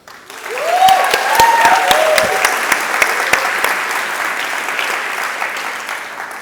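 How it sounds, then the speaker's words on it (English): A large conference audience bursts into applause, sustained clapping that swells quickly with a brief whoop near the start, then slowly fades. "So please give them a clap."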